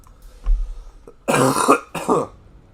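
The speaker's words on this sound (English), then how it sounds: "Excuse the cough." A man who is recovering from an illness coughs in a few rough, close bursts, a short hoarse rasp first and then two louder coughs in quick succession, with no talking.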